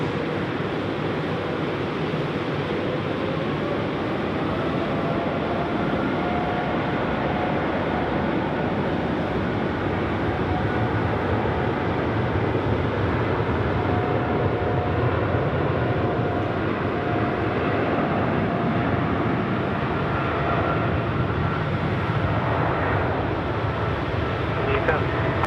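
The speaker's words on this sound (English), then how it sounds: "Now it's 777 time, about ready to roll here at Sydney Airport, runway 16 right." A Boeing 777 takes off from runway 16 right at Sydney Airport at night, a loud, continuous broadband jet roar that holds steady for the full length with a slight rise toward the end.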